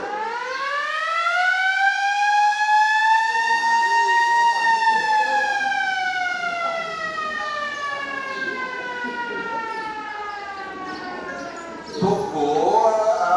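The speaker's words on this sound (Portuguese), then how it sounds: "tocou a sirene" A siren wails in a long, slowly rising and falling tone, loud and sustained for over ten seconds before a sharp change near the end, heard alone without talk.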